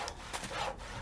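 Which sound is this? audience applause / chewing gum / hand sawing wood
hand sawing wood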